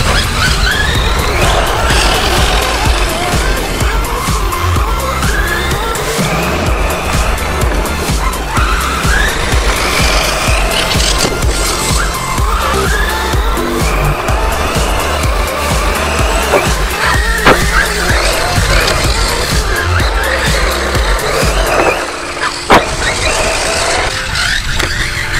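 Radio-controlled DHK Zombie and FS Racing E9.5 cars drift around a circuit under braking, giving continuous loud tire squeals and skids over whining electric motors, close and without pause.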